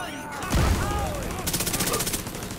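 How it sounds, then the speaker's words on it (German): Gunfire and a grenade blast in the video game The Division 2, with a sharp burst around half a second in followed by a rapid rattling volley of shots, loud and close, with some voice underneath. "Und einen scharfen Schuss."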